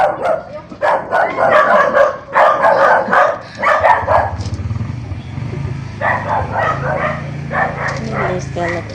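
A dog barks in repeated bursts at close range, mixed with people talking and a low rumbling in the background.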